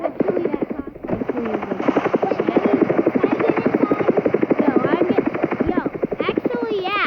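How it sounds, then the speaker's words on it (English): Helicopter rotor chopping steadily in a video game, a continuous rhythmic thump and whine held under players talking throughout. "I don't really know how to drive a helicopter."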